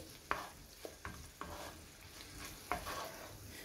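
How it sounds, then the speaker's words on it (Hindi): Chicken pieces fry with garlic for a soup. A faint background sizzle runs under sharp, irregular scrapes and knocks of a utensil stirring the pan. "चिकन को गार्लिक के साथ फ्राई करेंगे"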